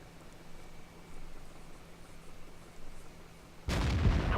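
A loud, sudden cannon blast from a tank in an online tank battle game bursts in near the end, after a stretch of quiet engine hum and low background noise.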